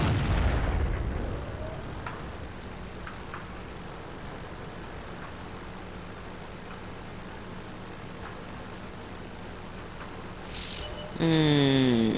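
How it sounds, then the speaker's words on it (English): A loud tank cannon blast at the start, from an AT-2 tank destroyer firing at a Hetzer in World of Tanks, followed by low rumbling battle ambience and a rising mechanical whine near the end. "there's the AT-2, and he's shooting at the Hetzer"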